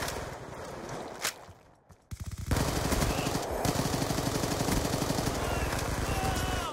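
Rapid automatic fire from a silenced Scorpion in the video game Call of Duty: Ghosts rattles in a fast, even stream after a brief lull, loud and continuous for several seconds.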